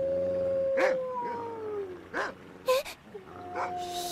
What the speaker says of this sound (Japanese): ひょっとして野犬？